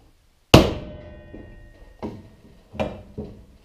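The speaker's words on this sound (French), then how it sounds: "Avec un bon marteau, ça va être du bruit, mais on fesse." A hammer drives a front wheel bearing into place with one loud, sharp metallic blow that rings out, followed by three or four lighter, spaced taps as it seats.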